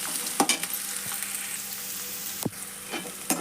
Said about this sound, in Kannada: ಉಳ್ಳಾಗಡ್ಡೆ ಹಾಕೊಂಡು ಫ್ರೈ ಮಾಡೋಣ